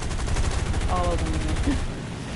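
Rapid, sustained machine-gun fire from a War Thunder aircraft battle rattles on loudly and steadily, with engine drone underneath.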